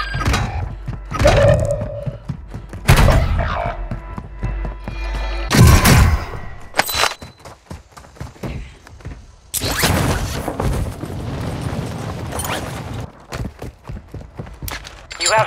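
Friendly mortar strike in a military shooter game: several loud, separate explosive blasts land at irregular intervals, each a sharp thump with a rumbling tail, mixed with scattered gunfire in between.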